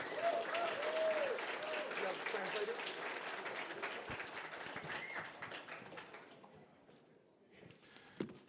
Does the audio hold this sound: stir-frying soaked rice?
no